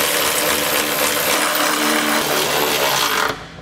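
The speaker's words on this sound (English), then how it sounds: "we'll come back with a 19 millimeter socket and snug it all down" A power tool with a 19 millimeter socket snugs down trailer hitch bolts on a 2021 Acura RDX, a loud continuous whirring drone, close up, that stops abruptly near the end.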